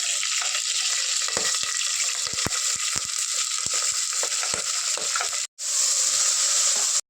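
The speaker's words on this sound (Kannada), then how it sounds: "ಈರುಳ್ಳಿ ಎಲ್ಲ ಹಾಕಿದೆ, 1 ನಿಮಿಷ ಫ್ರೈ ಆಯಿತು." Chopped onions fry in a pan for palak rice, producing a loud, dense, continuous sizzle with scattered crackles and stirring scrapes, briefly cut off before resuming just as loud.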